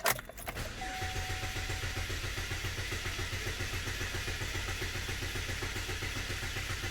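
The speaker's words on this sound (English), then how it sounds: "let's just do a quick clear flood and listen to this engine." Car engine cranking during a clear-flood test with the mass airflow sensor disconnected, a quick start transient giving way to a steady, even rhythmic chugging that continues close and alone throughout.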